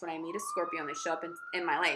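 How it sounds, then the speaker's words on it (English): Emergency vehicle sirens wail in the background, a faint rising tone running beneath a person talking steadily in the foreground. "excuse the sirens in the background"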